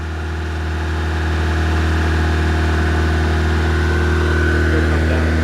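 A 1995 Honda Civic running on very old gas sits at a raised idle, a steady, close, even engine hum that holds constant with a slight rise in level, no voices over it.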